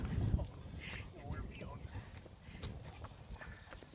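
A horse trots, its hooves clip-clopping in an uneven rhythm at moderate distance, faint under a person talking.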